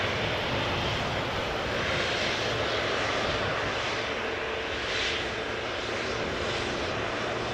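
An Airbus A320 at Amsterdam Schiphol Airport gives off a continuous broad engine roar that stays loud and even for the whole stretch, with no voices over it.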